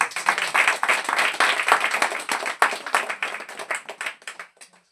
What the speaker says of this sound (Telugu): ఉండకూడదని వాళ్ళు చప్పట్లు కొట్టండి.